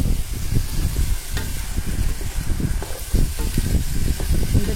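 Chicken biryani ingredients are mixed in a pot, with close, uneven scraping and stirring thumps over a low sizzle throughout.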